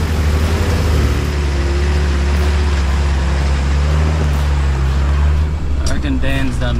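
A 4WD engine labours in second gear with steady low throttle up a rutted mountain track in the Victorian High Country, a loud continuous drone with low rumble and a voice talking over it.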